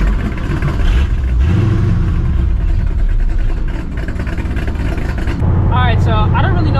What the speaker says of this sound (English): I think I just gave it too much gas on accident.